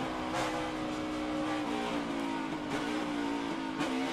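NASCAR Cup cars on the Charlotte Roval road course drive through the front stretch chicane into turn one, with continuous loud engine roar and revs rising and falling as they work the curves.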